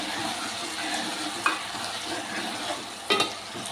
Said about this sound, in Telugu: ఇప్పుడు ఇందులోకి ఈ చింతపండు ఇలా యాడ్ చేద్దాం. ఇదంతా కూడా ఇందులో కలిసేలాగా ఒకసారి మొత్తం ఇలా కలుపుకుందాం.